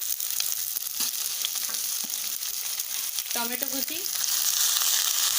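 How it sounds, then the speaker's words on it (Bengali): Chopped green chilli, ginger, garlic, onion and tomato sizzle steadily in a hot pan for a palak paneer base, a continuous bright frying hiss with a few brief stirring clinks and a short spoken phrase partway through. "এবার সব কিছু ভালোভাবে ভেজে নেব।"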